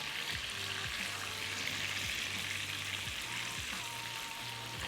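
Minced garlic fries in melted unsalted butter, giving a steady, even sizzling hiss that stays close and constant throughout.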